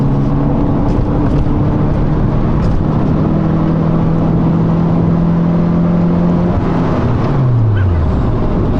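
A Fiat Palio 1.6 engine drones loudly and steadily from inside the car, a held tone climbing slowly as it accelerates, then dropping away sharply near the end as revs fall.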